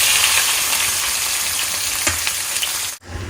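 Bay leaf, garam masala and onion sizzle loudly in hot oil, a steady close-up frying hiss that cuts off abruptly near the end.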